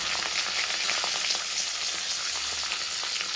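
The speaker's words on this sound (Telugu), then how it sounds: "జీలకర్ర, కరివేపాకు, కొత్తిమీర ఇది కొంచెం ఫ్రై అయిన తర్వాత" Cumin seeds, curry leaves and coriander frying in a pan of hot oil, giving a steady close sizzle with light popping that runs unbroken.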